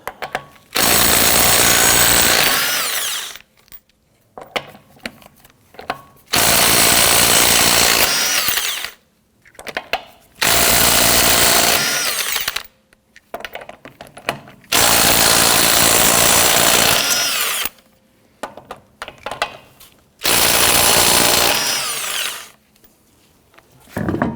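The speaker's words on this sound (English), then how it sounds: "Using a 21mm socket, loosen and remove your lug nuts." An impact wrench with a 21mm socket loosens and spins off lug nuts on a rear wheel of a 2017-2020 Hyundai Elantra, giving several loud, rattling hammering bursts of a few seconds each, separated by short quiet pauses.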